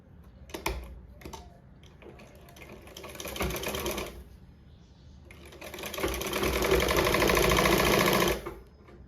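A sewing machine stitches folded piping onto fabric for a jacket in two loud, steady runs of rapid whirring, separated by a short pause with a few handling clicks.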